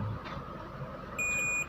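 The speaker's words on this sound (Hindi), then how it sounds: "देखो यहाँ पे बीप आ रही है ना, और इसकी जो बीप है वो यहाँ आ रही है" A multimeter's continuity tester on mobile phone circuit lines gives a single steady electronic beep near the end, after a stretch of quiet hum.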